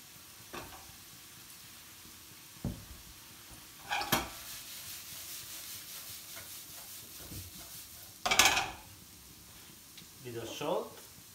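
Pumpkin for gnocchi with bacon frying in a pan with onion, a low sizzle broken by a few separate scraping stirs and clatters against the pan, with a louder burst of clatter near the end.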